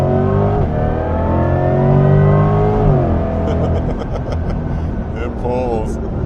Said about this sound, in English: It pulls. It gets up and goes, and that electric sound with an electrifying car.